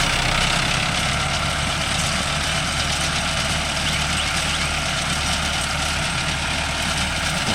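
A Mahindra Arjun Novo 605 DI tractor diesel engine idles nearby with a loud, steady, unbroken rumble and vibration throughout, used on a farm for straw baling.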